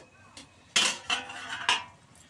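Metal pot lid lifted off a pan of meat cooking on the stove, giving a sharp clatter followed by two more clinks and scrapes of metal on metal, close and clear with no voices.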